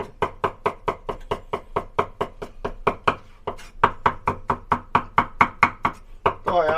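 Crushed garlic is chopped on a board with a blade while a braise of roast pork, winter melon, tofu skin and fried tofu is prepared. The close, steady, rapid chops are heard alone, with one brief different sound at the end.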